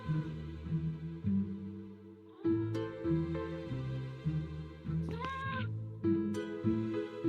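A cat meows in a Nancy Drew mystery video game, several short mewing calls over a steady droning game music background, fairly close and clear with no talking.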